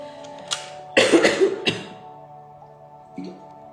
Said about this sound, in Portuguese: tá no final da tosse